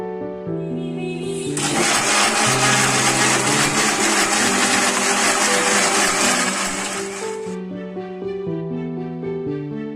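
An electric blender whirs loud and steady for about six seconds, grinding dates, milk and Boost powder into a date milkshake, starting and stopping abruptly over light background music.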